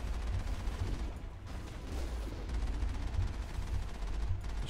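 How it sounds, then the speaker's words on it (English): A Geth Colossus fires on the squad in Mass Effect on Virmire, producing dense, continuous gunfire and blasts, moderately loud and rumbling, with no talking. "He's trying to shoot us, but it's not really doing much."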